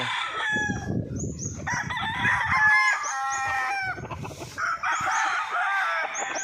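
Stag gamecock roosters, red tiger and Cuban tiger lines, crowing loudly nearby in overlapping calls, with clucking and other crowing in the background.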